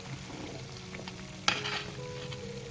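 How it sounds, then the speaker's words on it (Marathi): Onion fried for Kolhapuri kanda lasun red chilli masala sizzles in a pan while being stirred, a close steady hiss with a sharp scrape of the spoon midway. "बघा कसं छान असं तळलेला आहे कांदा."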